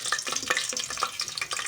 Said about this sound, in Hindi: अब हम इसमें हल्का हल्का फ्राई करेंगे, गोल्डन कलर आ जाए इस पर,